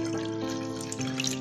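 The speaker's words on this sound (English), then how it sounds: "Now you observe that water rushes out from all the holes" Water rushing and trickling out of several holes in a container during a liquid-pressure science demonstration, a steady close splashing flow.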